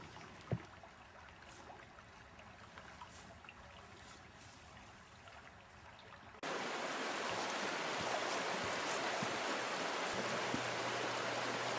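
Abrams Creek flows through a winter setting in a wide, ice-free section, a soft steady rush and trickle that grows noticeably fuller and louder partway through.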